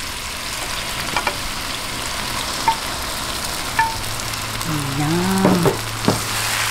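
Chicken gizzards and liver hit a hot pan, a steady frying sizzle with a few clinks, swelling into a louder hiss near the end; a brief word is spoken.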